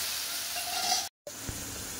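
Spices sizzle and hiss steadily in hot oil with fried fish, a soft close frying crackle that drops out for a moment and resumes.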